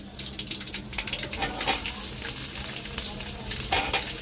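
Onions frying in a tadka pan for a Telugu-style amaranth leaf tempering, a loud crackling sizzle with stirring scrapes, close and continuous, no talk.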